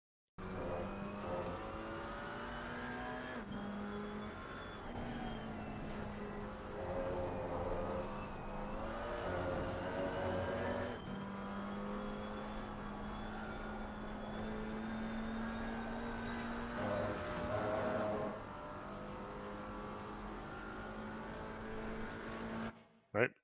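A GT4 race car laps Zandvoort in Assetto Corsa Competizione, its engine droning steadily with rising and falling pitch through gear changes, continuous and moderately loud from an in-car view.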